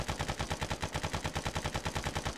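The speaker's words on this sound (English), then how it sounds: "Suppressive fire." Rapid automatic gunfire in the military video game Arma 3: a sustained, evenly paced burst of roughly twenty shots, loud and close, with no talking.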